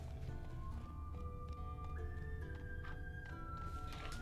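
A horse in The Witcher 3: Wild Hunt plods with soft clip-clopping hooves and gives a whinny over quiet, tonal in-game music, all faint and distant-sounding, with no voices.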